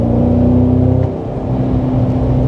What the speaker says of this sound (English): the exhaust in the highest setting with the V mode,